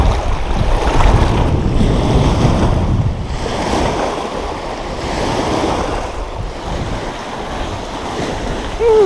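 Strong gusty wind over a lake during a fishing trip, a loud steady roar with buffeting against the microphone and a wash like waves underneath, rising and easing through the stretch.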